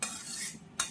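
Curry leaves fry and get stirred in a home kitchen pan while making a South Indian vegetarian dinner, giving a steady close sizzle with scraping spoon strokes and a sharp clink near the end.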